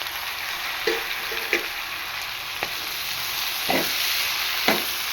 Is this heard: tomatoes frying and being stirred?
yes